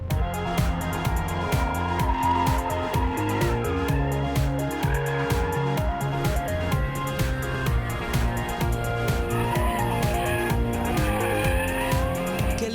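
A BMW M5 is pushed hard around a race circuit, the engine revving up and down through gear changes with repeated tire squeal, loud and close the whole time.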